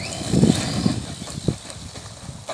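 A JLB Cheetah RC car under throttle, its motor whirring in short bursts with a few sharp spikes as it surges, fairly close and moderately loud.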